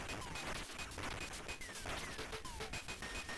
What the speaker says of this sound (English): Along with some really meaty sound effects and explosions and stuff.